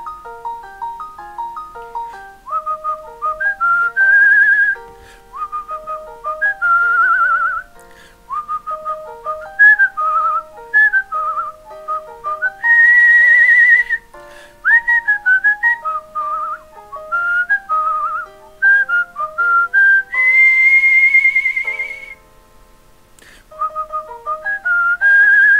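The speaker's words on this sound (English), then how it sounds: "today we are going to whistle a little tune" A solo whistled melody of a song from Disney's Frozen, clear and close, phrase after phrase with short breaths between, some notes held and sliding, no talk.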